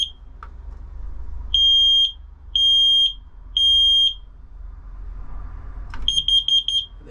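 Carbon monoxide alarm on a Jeanneau 795 NC boat sounding three loud, evenly spaced long beeps, then a rapid burst of shorter beeps over a low background rumble, with no talking.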